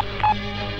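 A single short touch-tone beep from a telephone keypad being dialed, clear and close over a low steady background hum, with no voices.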